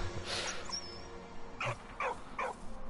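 A dog whimpers and gives a few short yips and barks in the video game Valiant Hearts, three quick cries spaced apart over quiet game ambience.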